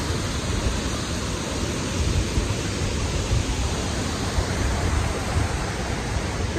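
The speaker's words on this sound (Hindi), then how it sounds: "Amazing waterfall." Roaring waterfall in Arunachal Pradesh, a dense constant rush of falling water filling the whole stretch at close range, steady and loud with no voices.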